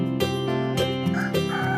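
An animated farmyard rooster crowing in the morning in a village setting, a few bright, tonal, drawn-out calls in quick succession, close and clear with no talking.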